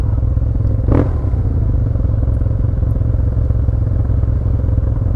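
A Yamaha TMAX 530 scooter from 2015 with a full Malossi racing exhaust, the baffle fitted, idles with a deep, steady rumbling drone, close and loud, a single short clack near the start.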